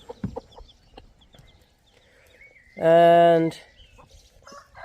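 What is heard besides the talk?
hen and chicks clucking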